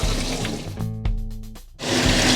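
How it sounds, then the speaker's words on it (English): Cool tap water runs steadily over black rice being rinsed, a continuous close splashing rush that briefly drops in level before surging back loudly. "we're going to take it over and needs to be rinsed a couple of times"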